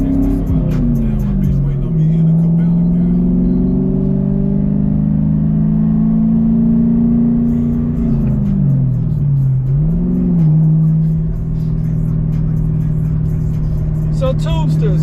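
A 1996 Ford Mustang Cobra with the 4.6 DOHC engine drives along steadily, its loud mid-pitched engine drone dipping and rising as the car shifts, while people talk over the engine noise.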